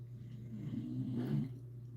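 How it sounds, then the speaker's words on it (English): A dog snores softly in the background, one slow, low rumbling breath swelling and fading, faint and unaccompanied by talk. "Sorry about the dog snoring in the back."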